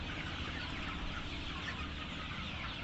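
Broiler chickens on a rooftop chicken farm cluck in a dense, continuous chorus, many birds overlapping at close range with no pauses.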